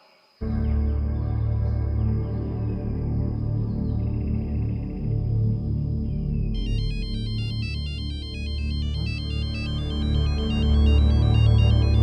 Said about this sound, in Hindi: अरे वो तो स्नेहा रो फोन है